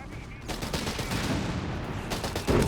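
Infantry gunfire crackles in a Company of Heroes 3 battle, with dense rapid shots in overlapping bursts at moderate volume and a louder burst near the end.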